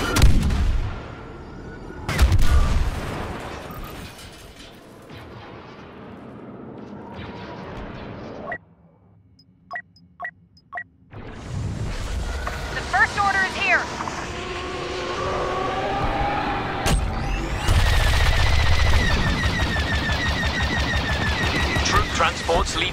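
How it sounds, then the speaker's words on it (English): Gunfire and artillery blasts boom and crackle through a Star Wars Battlefront II multiplayer battle, loud explosive bursts separated by a brief near-silent gap with a few sharp shots, then heavy sustained fire resumes, with voices shouting among the noise. "I'm taking fire."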